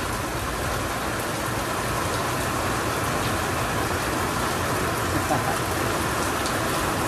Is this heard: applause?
no